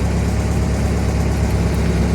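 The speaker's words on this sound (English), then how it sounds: "just sitting here idling" A 60-year-old Jeep engine idles outside a garage, a steady, continuous low rumble with even mechanical chugging throughout and no voices.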